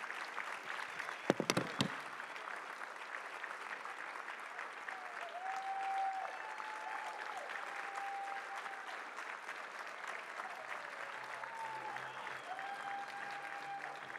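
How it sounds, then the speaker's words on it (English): Audience applause at a formal political dinner, sustained clapping from a large crowd heard from a distance and fairly quiet, with a few sharper claps near the start and faint cheering or whistles mixed in. "We applaud her and we encourage her."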